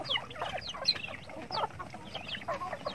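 Native chickens on a farm cluck steadily in a busy flock, several birds overlapping in soft, continuous chatter at a modest distance.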